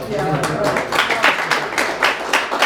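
Applause from a small audience at a town selectboard meeting, a steady patter of many hands clapping at moderate volume for a few seconds, with some voices murmuring underneath.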